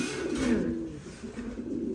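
American long-tail pigeons with huge tails, an extra-large breed pair, sitting on eggs, give low, throaty coos, close and moderately loud over two seconds, with no one speaking.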